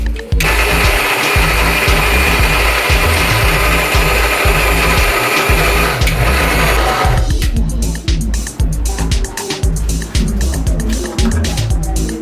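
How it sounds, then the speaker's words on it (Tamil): A mixer grinder whirs loudly and steadily, grinding batter for Japanese dorayaki pancakes, its motor drone continuous for several seconds before breaking into rattling, uneven churning as the contents shift. "மறுபடியும் மிக்சியில் அரைக்கணும்"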